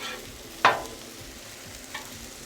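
Chicken and shrimp hibachi being stirred in a hot pan at home gives one quick metal scrape with a short sizzle, then a fainter second scrape after a quiet pause.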